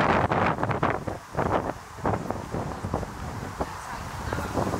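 Wind gusting across an open park near the sea in western Scotland, a steady loud rumble with surges buffeting the microphone throughout.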